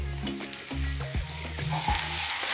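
Chopped green garlic with its stem sizzles in a pan while a spoon stirs it, producing a dense close frying hiss with rhythmic scraping strokes and faint tonal hum, no talk.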